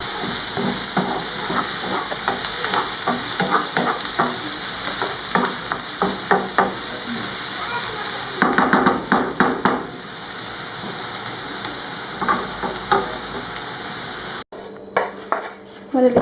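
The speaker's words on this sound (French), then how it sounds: "Je vais porter sur le feu et je laisse cuire." Two onions cooking in a pan on the stove, a loud steady sizzle with repeated scraping and clinks of a utensil against the pan, clattering bursts midway and a quieter stretch with knocks at the end.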